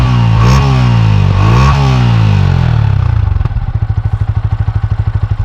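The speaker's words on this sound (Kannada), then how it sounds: "ಎಕ್ಸಾಸ್ಟ್ ನೋಟು ಆಗ್ಲೇ ಕೇಳಿಸ್ಕೊಂಡಿರ್ಬೇಕು ನೀವು" A 2024 Yamaha R15 sport motorcycle revs loudly up close, blipping its throttle twice in rising and falling sweeps, then settling into a steady, pulsing idle with no talk over it.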